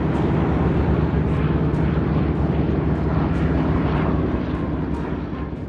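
An old Pan American Flight 914 airliner lands at Miami Airport, its engines giving a loud, steady roar close by that keeps on without a break and eases slightly toward the end.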